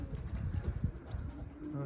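A pigeon gives short, low coos among flocking birds, with a voice talking faintly over the calls.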